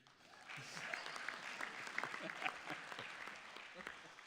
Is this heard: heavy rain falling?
no